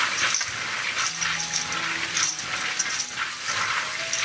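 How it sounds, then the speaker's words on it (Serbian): White beans, a kilogram of them, washed in running water, a steady gushing and splashing rush of water with faint rattling, continuous and fairly close, with no talking. "opraću kilogram belog pasulja."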